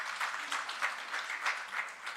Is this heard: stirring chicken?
no